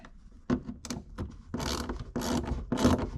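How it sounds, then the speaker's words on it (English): Screws being backed out of the roof trim while taking down the headliner of an MK5 VW Jetta TDI, a few short ratcheting mechanical bursts, close and fairly loud, with brief pauses between, no talking. "the next part is to remove the rest of these top screws and things so that can come down and this can come out"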